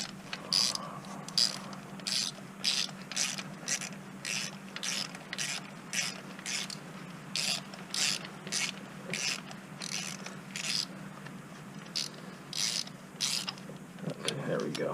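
A socket ratchet tightens a spark plug on a Chevy Cruze during a tune-up, with a steady series of close, crisp clicking bursts repeating through the clip over a low background hum.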